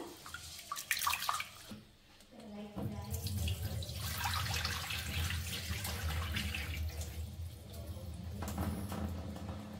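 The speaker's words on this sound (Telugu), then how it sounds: "ఫస్ట్ అయితే నేను రైస్ ఒక 2 టైమ్స్ మంచిగా కడుగుతున్నాను" Rice being washed in water in a kitchen sink before cooking in an electric pot: running tap water and sloshing, swishing splashes fill the clip steadily after a brief pause near the start.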